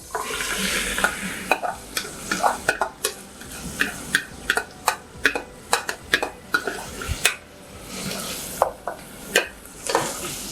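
Vegetables are sautéed in oil with curry masala for a quick veg pulao. A soft sizzle sits under repeated sharp spatula knocks and scrapes against the pan, close and rhythmic, with a few short pauses.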